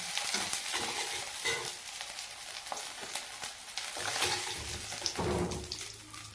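Kandhuli fish fries in oil in a pan, with a loud, close, crackling sizzle mixed with scraping stir strokes and spatula knocks, continuing throughout.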